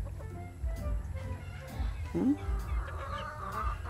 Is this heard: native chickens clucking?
yes